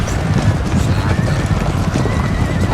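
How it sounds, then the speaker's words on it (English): Horses in a Total War American Civil War battle game, with loud, dense hoofbeats and neighing over a continuous battle din, and voices talking throughout. "Somebody killed a horse."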